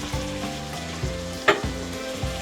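A pot of water at a boil for macaroni and cheese in a home kitchen, giving a steady bubbling hiss with a rhythmic low rumble and one brief clatter midway, no voices.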